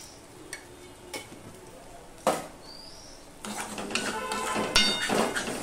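Vegetables with turmeric and sugar stirred in a pot for dal, with a few scattered scrapes and clinks of a spoon against metal building into denser, busier stirring and clatter toward the end.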